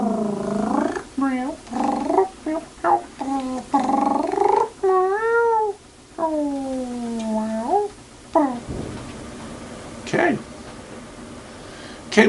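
A cat meows repeatedly in a long series of drawn-out, wavering calls broken by short pauses, close and clear, with a few sharper sounds near the end.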